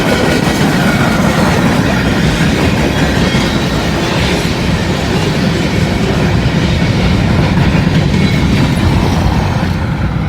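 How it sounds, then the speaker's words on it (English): A freight train of about 26 cars led by EMD SD40 locomotives passes close and loud, its wheels producing a dense, steady rumble and rhythmic clatter from start to finish. "Maybe like 26 cars on this train."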